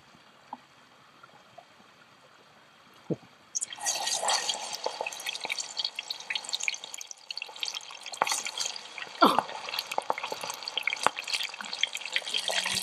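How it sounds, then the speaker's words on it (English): A stick dipped into hot cooking oil over a campfire sets off a sudden burst of steady, crackling sizzle and bubbling that carries on close and loud after a quiet opening with a few faint ticks. "Just pop a stick in, see if it bubbles."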